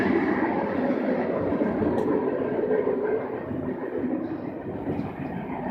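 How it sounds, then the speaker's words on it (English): A train rumbles past an old train depot, a loud, steady broadband roar that fills the whole stretch and eases slightly toward the end as it moves off. "And the train is gone."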